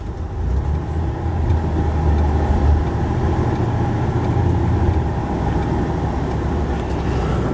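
A manual car starting off in third gear pulls away steadily with a low, continuous engine rumble, heard up close and with no talking.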